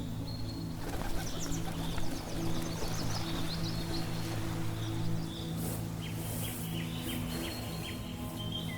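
Southern carmine bee-eaters (Merops nubicoides) calling in the Luangwa valley, a scatter of short high chirps repeating through the clip over a steady low hum and dense background bird and insect chatter.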